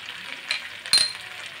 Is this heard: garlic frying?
yes